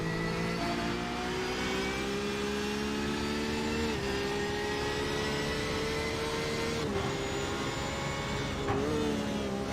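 A GT race car engine drones loudly and steadily at Barber Motorsport Park, running in the lower gears, its pitch stepping down sharply at several downshifts, with no voices over it.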